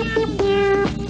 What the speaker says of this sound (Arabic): عنده قطة